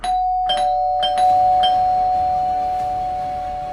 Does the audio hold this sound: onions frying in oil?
no